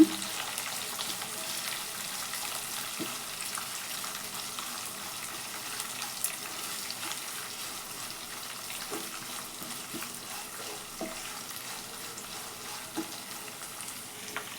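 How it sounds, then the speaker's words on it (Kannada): Sliced onions and curry leaves fry in a pan with a soft, steady sizzle, dotted with occasional light scrapes and taps of a stirring spoon. "ಈಗ ಇದನ್ನು ಚೆನ್ನಾಗಿ ಗೋಲ್ಡನ್ ಕಲರ್ ಬರೋವರೆಗೂ ಫ್ರೈ ಮಾಡ್ಕೊಳ್ಳೋಣ"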